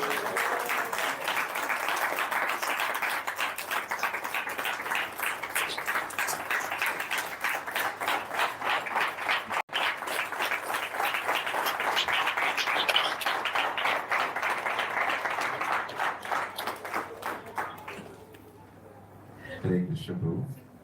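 Long, rhythmic audience applause after a talk at a Bhakti center, steady and fairly close for most of its length before thinning out and fading, with a brief voice near the end.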